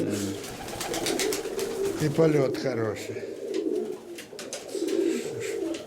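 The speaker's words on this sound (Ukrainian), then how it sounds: "Це голубочка." A female pigeon of an ornamental lemon-headed fancy breed coos in repeated low, rolling phrases close by, while someone talks over it.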